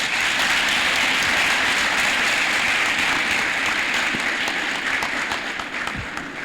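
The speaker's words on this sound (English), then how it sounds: "I think we can clap better than that." Audience in a university law school lecture hall breaks into sustained, dense applause, steady and loud throughout before tapering slightly near the end.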